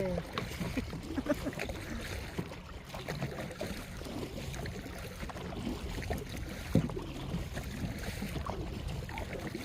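Motorboats speed past kayaks in Halong Bay, Vietnam, their engines a faint, distant hum buried under wind and lapping water, with voices faintly in the background.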